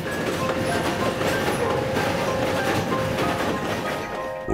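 Old train wagons rumbling and clattering along rails in a steady, loud, continuous roll with rhythmic wheel clicks and faint squealing tones, sustained throughout before easing slightly at the end.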